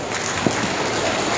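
A crowd imitates galloping horses with their hands, producing a brief, steady rumbling patter with one small thump partway through, fairly soft and with no voices over it.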